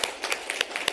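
Hand clapping from a church congregation during a Sunday service, brief sharp claps at an uneven rhythm, faint and somewhat distant, with no talk over it.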